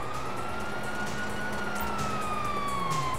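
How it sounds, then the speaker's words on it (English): A wailing police siren in Grand Theft Auto V rises and falls steadily over a constant background rumble, sounding moderately distant. "you hear that? Sirens!"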